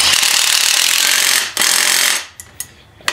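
An impact wrench hammers loudly and continuously on front brake bolts during a brake upgrade, then stops abruptly and is followed by a few sharp metallic clicks and taps.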